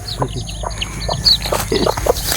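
Young chicks peep nearby in short, high, scattered chirps over a low background rumble, with no talk.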